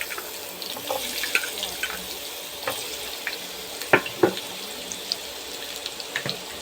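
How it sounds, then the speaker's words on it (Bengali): Thin-cut potato sticks for doi katla fry in the same oil used for the fish, giving a steady close hiss with scattered sharp pops and crackles and no one talking. "আলুটা ভেজে নেব একই তেলে।"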